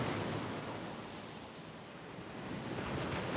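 Ocean surf rolls onto a Hamptons beach at sunrise, a steady broad wash of breaking waves with some wind rumble, swelling slightly toward the end, with no talking.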